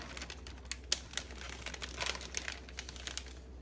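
A Ziploc bag of chicken marinade crinkles and clicks as it is pressed shut, with quick plastic rustles and small snaps close up and no voices.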